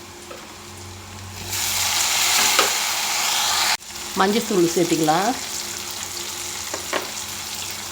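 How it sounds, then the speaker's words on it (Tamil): Loud, steady sizzling of tomatoes sautéing in a frying pan, with a brief pause and a short spoken remark over the crackle. "தக்காளி நல்லா மசிய வதக்கி எடுத்துக்கலாம்"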